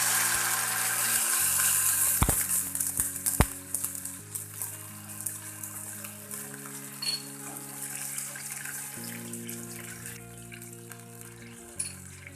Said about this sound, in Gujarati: વઘારને આપણે ફૂલ ગેસ પર જ 2 મિનિટ માટે ઉકાળી લઈએ।